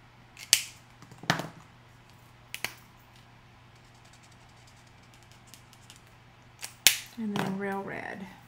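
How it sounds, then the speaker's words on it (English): Scissors fussy cut small colored paper present shapes for a stamped card project, giving a few sharp isolated snips spaced apart, then a longer rustling cut near the end, close and fairly quiet. "then we're going to fussy cut those"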